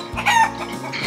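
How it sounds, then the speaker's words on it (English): A chicken on a farm gives a short, loud, close cluck that rises and falls within about a second, alone with no talking. "Yeah, it's another chicken."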